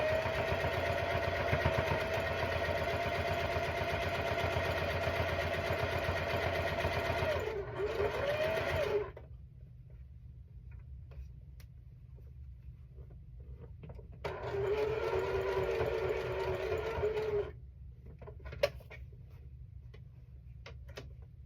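A sewing machine stitches a quilt block in two bursts of steady, close mechanical whirring separated by a quieter pause, then falls silent.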